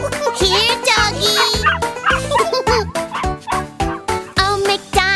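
A cartoon dog barks in quick, bright yips set within an upbeat children's nursery-rhyme song on a farm, the barks rhythmic and loud over bouncy music.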